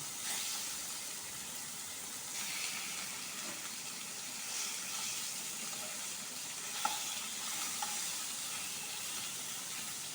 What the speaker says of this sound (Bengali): তেল গরম হয়ে গেছে, এবার এতে আমি ওই মাছগুলো দিয়ে দিচ্ছি।